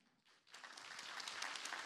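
An audience at a video creators' conference breaks into applause that starts faint, then swells into steady, dense clapping.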